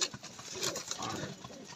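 Pigeons lined up eating grain give low, soft coos close by, short muffled calls over faint background rustling.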